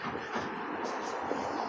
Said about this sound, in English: straight up ahead is the train